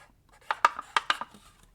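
A Blami chalk marker scratches across a plastic plant label in a few quick close strokes, soft squeaky scrapes with short pauses between them.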